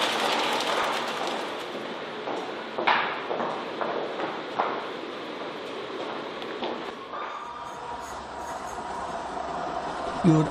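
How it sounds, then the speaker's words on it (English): A heritage steam railway train runs along the track, with rhythmic clattering wheels, rumbling carriages and occasional squeals heard from nearby, steady throughout with faint background voices. "You would almost think we were at the East Lancashire Railway or on the Haworth train."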